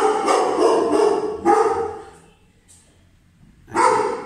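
A small dog barks indoors, several loud close barks in a quick run, a pause, then another sharp bark, with no talk over it.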